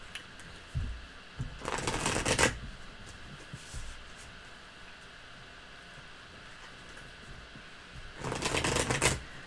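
Tarot cards riffle-shuffled in two distinct bursts, the first lasting about a second and the second near the end, crisp rapid flutters with a quiet room in between.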